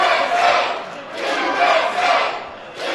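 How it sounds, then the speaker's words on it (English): A wrestling crowd chants USA in loud, rhythmic swells that rise and fall across the whole stretch, a dense mass of voices filling the hall. "The crowd chants USA."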